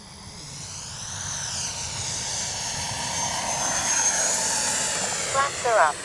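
An RC model L-39 jet by FGFRC makes a slow, low pass with landing flaps down, its turbine whine rising and sweeping past at moderate loudness while someone talks over it.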